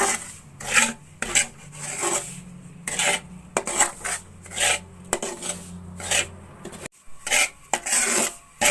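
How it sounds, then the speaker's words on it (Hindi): Semolina dry-roasting in a pan over low heat, stirred with a spoon: repeated rasping scrapes and metallic strokes in irregular bursts, close and fairly loud, with no talking. "अब मैं सूजी को हल्की आंच पे भून लूंगी।"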